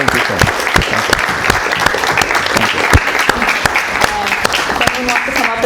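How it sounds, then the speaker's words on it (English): An audience claps steadily in a classroom after a guest scientist's talk, a dense, sustained round of applause close by, with a voice speaking over it. "Let's give a round of applause."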